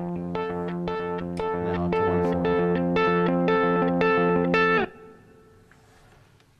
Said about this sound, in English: you can really just apply a bunch of distortion, make that clean sound like it's coming through a tube amp